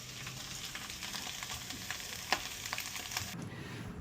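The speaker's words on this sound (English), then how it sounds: "For lunch I'm making what we call in the Netherlands a farmer's omelette" Farmer's omelette with cheese frying in a pan, a steady soft sizzle throughout with a few faint scrapes and taps, the crackle dropping away near the end.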